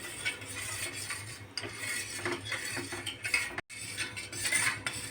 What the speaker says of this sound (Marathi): हे आपल्याला कंटिन्यू फिरवत राहायचं आहे कारण याच्यामध्ये आपल्याला गाठी बनू द्यायच्या नाही आहेत